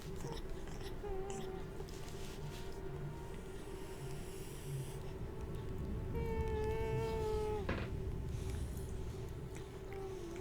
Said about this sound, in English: my cat is making strange noises